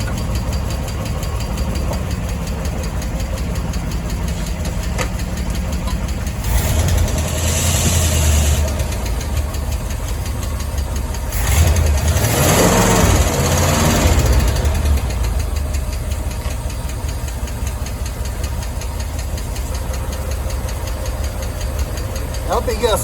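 A 1964 Ford Falcon engine runs steadily in a loud, rough, knocking idle, with bursts of louder activity midway and a voice talking over it.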